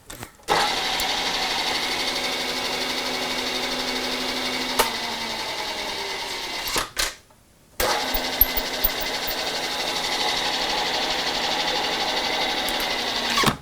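A machine drones steadily while a 3/8 tap cuts threaded holes in ductile iron, with a brief pause and clicks before the whirring resumes at the same level.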